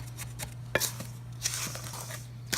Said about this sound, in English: We're gonna mix these together.